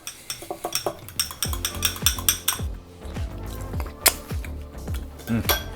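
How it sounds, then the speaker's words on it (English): Ranch-style dressing with chive and dill stirred briskly in a bowl, a spoon clinking and scraping against the sides in a quick run of rhythmic knocks, close and fairly loud, with no talk. "Go ahead and give this a quick little stir."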